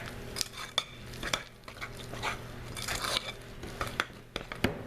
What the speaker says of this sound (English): I'm just going to get this stirred up